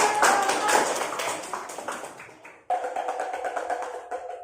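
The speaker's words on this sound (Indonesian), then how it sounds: "Oke, tepuk tangan dulu." Students in a fourth-grade classroom clap together in a quick, patterned burst. The sound fades, then picks up again after a short break, with young voices mixed in among the claps.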